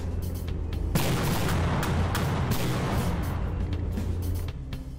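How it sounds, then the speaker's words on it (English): Cannon fire and explosions from the naval combat game From The Depths during a village raid, dense loud booms and rumbling blasts with sharp cracks throughout, no talk over them. "Ooh, big explosions."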